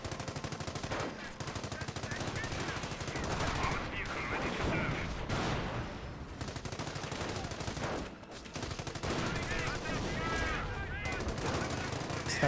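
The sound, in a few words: sniper rifle fire against Panzer Grenadiers, Company of Heroes video game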